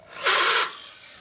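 Metal part of a 1942 Harley-Davidson WLA 45 cubic inch chassis being deburred, heard as a single short, bright rasping scrape of about a third of a second, close and fairly loud, with no talking.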